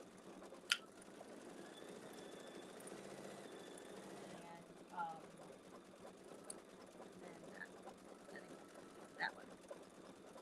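An embroidery sewing machine stitching a tulip fill, a quick, even mechanical whir running steadily at low volume, with occasional clicks and people chatting over it.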